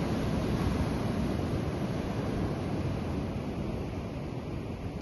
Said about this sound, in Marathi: समुद्र लाटा पाहू शकता